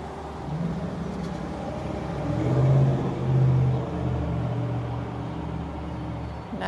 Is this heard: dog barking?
no